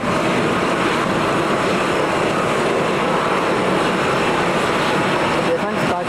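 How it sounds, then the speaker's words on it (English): A Boeing Dreamliner airliner departs Manchester Airport in heavy rain, its engines giving a loud, steady, broad roar that fills the whole stretch without a break, with rain noise mixed in. "Dreamliner's going out."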